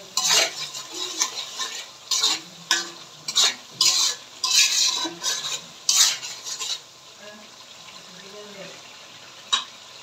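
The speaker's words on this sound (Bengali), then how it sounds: "হালকা একটু মশলা কষানো হয়ে গেছে আমার" Spices fry in fish oil for muri ghonto, with a run of bursty stirring and scraping strokes over a light sizzle that thins out toward the end.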